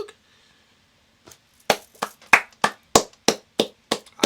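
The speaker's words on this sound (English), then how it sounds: "I gotta clap to that, bro." Hand clapping by a man watching the 2023 Rugby World Cup match between Australia and Fiji, about nine sharp, close claps at an uneven, quickening pace after a few soft ones.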